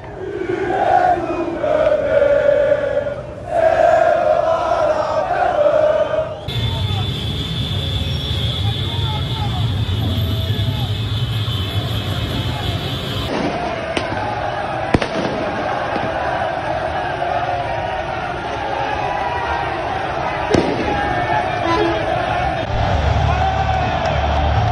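Marseille supporters in a football stadium keep up a dense, sustained roar of massed chanting and crowd noise, loud and continuous throughout, with a few sharp bangs breaking through.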